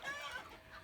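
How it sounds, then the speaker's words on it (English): Roosters crow and cluck faintly in the background, a short, quiet burst of fowl calls fading within under a second. "Roosters, please, calm it down."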